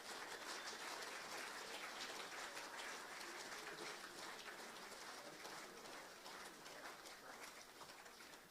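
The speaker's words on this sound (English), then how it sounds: "So let's give Jesse a round of applause." Steady applause from a crowd at a sports league presentation dinner, a dense continuous patter of clapping that fills the room and fades slightly toward the end.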